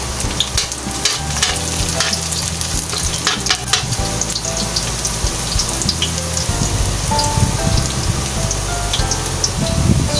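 Garlic in hot oil in a large pan for pancit canton sizzles loudly and continuously, with a dense crackle like heavy rain and occasional stirring scrapes up close, with no voices.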